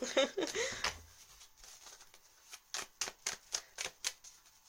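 Tarot cards are shuffled quietly at close range, a soft run of papery riffles and taps in an even rhythm after a brief voice at the start.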